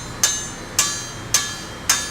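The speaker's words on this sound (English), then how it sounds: "I love hearing that ball peen hammer on the metal, on the anvil." A ball peen hammer strikes metal on an anvil during a flattening step, four crisp, bright rings evenly spaced about half a second apart, close and unaccompanied.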